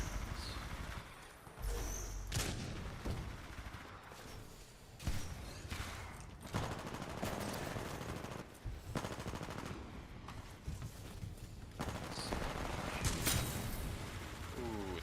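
Dense gunfire from the Titanfall video game, including Northstar-era combat, fills the whole stretch with rapid automatic bursts and heavier blasts, loud and continuous with no clear pauses.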